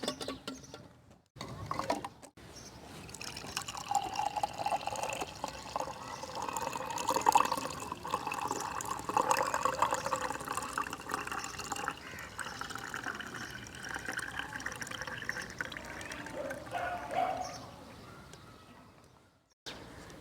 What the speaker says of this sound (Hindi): तो अभी अब इसको हम कन्वर्ट करते हैं जग में और गिलास में।